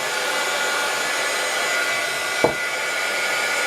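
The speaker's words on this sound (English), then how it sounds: "Get it pretty good and then do a nice cleanup afterwards with a heat gun" A heat gun blows steadily to shrink plastic wrap tight around a handmade soap bar, a constant loud whooshing hiss with a brief soft bump partway through.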